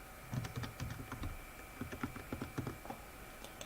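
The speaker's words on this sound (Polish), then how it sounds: "I teraz wpisuję hasło." Someone types a password on a computer keyboard, a run of soft, irregular key clicks in quick bursts with brief pauses, fairly close and quiet, with no talking over it.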